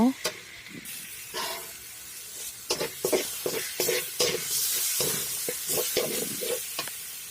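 Chicken and potato pieces frying with spices in a pan, a close sizzle under repeated scraping and clattering of a spatula stirring, irregular bursts growing busier toward the end, with a short breathy voice noise at the start.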